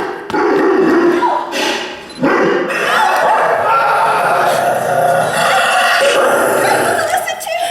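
A dog barks and snarls almost without a break in a Sherlock Holmes audio drama scene, loud and close, mixed with excited voices throughout.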